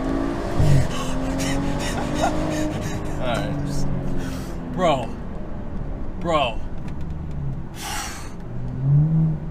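A tuned BMW F30 335i running Bootmod3 Stage 2 with full bolt-ons accelerates hard, its engine roaring steadily with exhaust crackles, heard from inside the car while people talk and exclaim.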